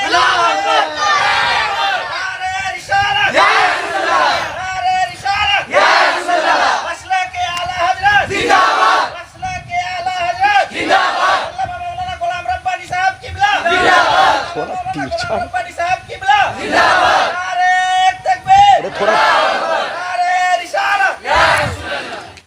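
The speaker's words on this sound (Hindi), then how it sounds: "नारे तकबीर" A large religious gathering chanting the Naara-e-Takbeer slogan, loud massed voices roaring in repeated call-and-response bursts that carry through the whole stretch.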